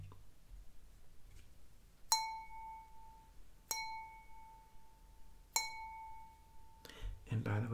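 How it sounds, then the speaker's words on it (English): Utensils ring against a china plate in three distinct, bright clinks spaced about a second and a half apart, each leaving a clear lingering tone, with faint rustling around them and a louder shuffle at the end. "I'm conscious of the noise that the fork and the knife make on the china."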